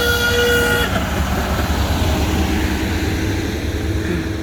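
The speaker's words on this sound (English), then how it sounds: "you can hear the train" A train passes close by in Jerusalem, a loud continuous rumbling roar with a horn-like tone sounding at the start and fading, no talking heard.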